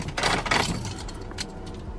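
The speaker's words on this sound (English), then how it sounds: "3 minutes of looking for my keys, I found them" Keys jangle up close for a short moment, a bright metallic rattle that fades out into quiet background noise, with no talking.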